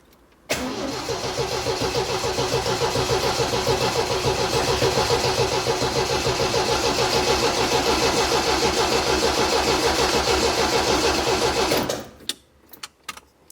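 An MGB engine with a newly fitted exhaust cranks on the starter for about eleven seconds, a loud, steady, rapid churning rhythm close by that fails to catch, then stops with a few small clicks afterward.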